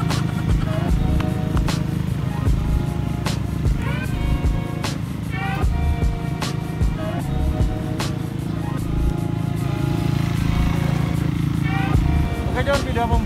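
A motorcycle engine hums steadily while being ridden, with sharp ticks and clicks over the drone and people talking throughout.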